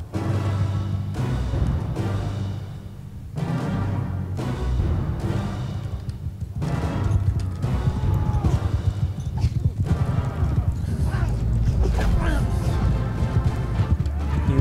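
Horses gallop in a Mount & Blade II: Bannerlord battle, their hoof clatter rolling steadily under a loud, dense wash of combat noise with occasional crashes throughout.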